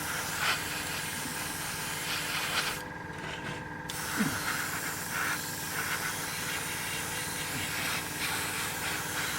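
Grey spray paint hisses from an aerosol can onto a scale model in steady, close bursts, with a brief pause partway through before the spraying resumes.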